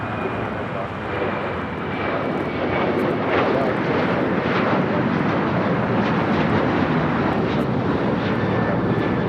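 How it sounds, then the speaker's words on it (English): Delta Airlines Boeing 737-900ER jet taking off from Los Angeles LAX, a loud sustained roar of engines building and holding steady across the whole stretch, broad and rumbling from a distance. "This is Delta Airlines Flight 811 taking off to Miami, Florida on the 737-900ER."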